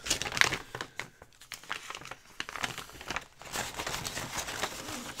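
Paper is handled and put away during a crafting session: close, soft crinkling and rustling in uneven bursts with brief pauses, no voices.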